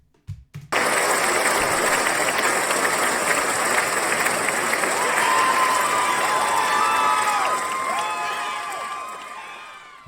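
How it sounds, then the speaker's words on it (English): Cheering and applause from a large crowd, part of a simulated live performance, swells in suddenly after a brief quiet start and holds as a loud, dense roar with shouts and whistles before easing slightly toward the end. "I didn't bother to have too many crowd samples because you don't really hear that it's the same sample over and over"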